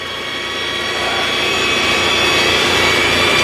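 An electric motor raises the bed in a 2016 Thor Ace 30.1 mini Class A motorhome, giving a loud, steady whirring drone that swells slightly as it runs, with no talking.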